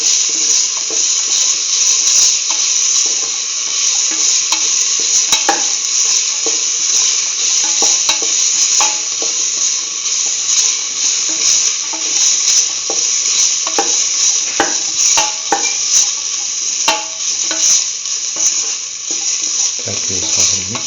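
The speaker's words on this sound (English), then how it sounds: "Now put in the grated coconut." Grated coconut goes into a hot pan for a curried tomato, beetroot and coconut stew, giving a loud, steady sizzle with intermittent stirring scrapes throughout.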